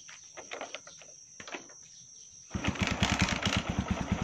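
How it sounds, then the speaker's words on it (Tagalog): A motorcycle that had been hard to start is kicked once and catches, with quiet kick-lever clatter before its engine bursts into a close, loud, rapid thumping idle that runs steadily to the end. "So, isang sipa lang mga sir. Kaya napandar na natin yung ating motor."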